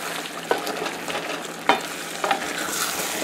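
A pot of garden egg stew with jumbo shrimp cooks and sizzles up close, a steady bubbling fry broken by a few sharp clinks and scrapes of stirring, with no talk.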